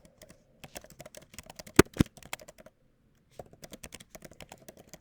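Irregular bursts of typing on a computer keyboard, with quick clustered key clicks, a couple of sharper keystrokes near the start and a short pause before the tapping resumes.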